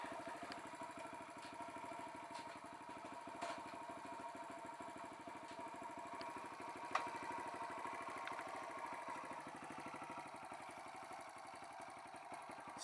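A rebuilt Kawasaki KLX170 motorcycle engine, fitted with a big bore top end and in its first break-in run, idles steadily and evenly at close range, a continuous rapid putter that never changes pace, with one brief click partway through.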